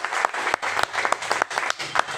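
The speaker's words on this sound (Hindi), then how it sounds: "तो सर के लिए एक बार जोरदार तालियां टीसी सर के लिए" Applause from a seated audience at a direct selling business meeting in Khacharod, rhythmic and choppy, with distinct claps and bursts of louder hits rather than a smooth roar.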